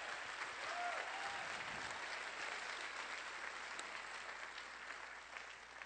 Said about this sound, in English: That definitely deserves a round of applause